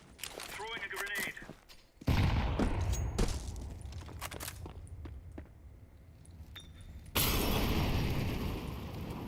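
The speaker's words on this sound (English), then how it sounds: "Throwing a grenade." A grenade is thrown and explodes in a video game: light metallic clinks, then a loud, sudden blast followed by a rumbling tail, with a second heavy burst near the end.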